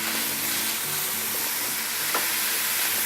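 Frozen mince frying in a pan as it starts to brown, giving a dense, even sizzle that runs throughout with the occasional faint scrape of stirring.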